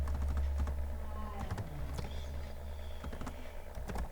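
Code being typed on a computer keyboard, a run of soft, close clicks and taps in irregular bursts over a steady low room hum, with no speech.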